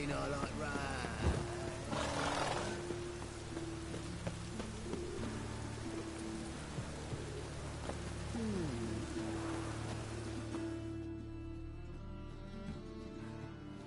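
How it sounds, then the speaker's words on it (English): Steady rain hisses continuously with a low rumbling undertone, fairly faint and even throughout, thinning out near the end, in the video game The Witcher 3: Wild Hunt. "rain. I like rain."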